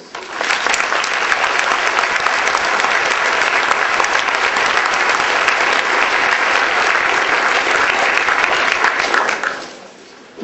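Sustained, loud applause from a university debate audience welcoming two speakers, a dense steady wash of clapping that fills the hall for about nine seconds before fading out quickly.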